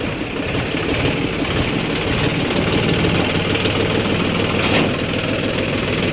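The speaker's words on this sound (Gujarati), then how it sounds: "એ ટ્રેક્ટર ચલાવવાના છે" A tractor engine runs steadily close by, a loud continuous low chugging rumble with a brief sharper burst near the end.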